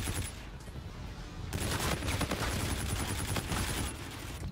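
Rapid automatic gunfire in the first-person shooter Call of Duty: Infinite Warfare, dense bursts of shots in quick succession after a brief quieter start, loud and continuous, with faint talk underneath.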